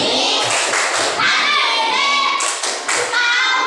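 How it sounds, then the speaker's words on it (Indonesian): A class of primary school children claps a rhythmic thank-you cheer, with bursts of hand claps and taps mixed with children's voices chanting along loudly in a classroom. "Tepuk terima kasih."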